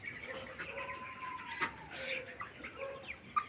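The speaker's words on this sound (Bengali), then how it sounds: "দেখি মুরগি কোথায় আছে কোথায় আছে" Farm chickens cluck and squawk inside a poultry shed, with scattered short calls near and far over steady low background noise.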